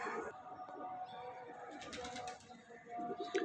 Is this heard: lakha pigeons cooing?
yes